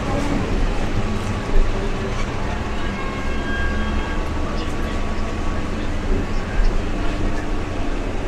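A Kolkata-area local train rolls along from inside the carriage, a steady rumbling clatter of wheels and car noise with occasional louder knocks, while voices talk faintly underneath.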